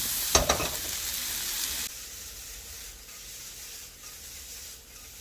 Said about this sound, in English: add the onions afterwards so that you could cook the onions in that remaining fat and all of the tasty juices left behind from the pork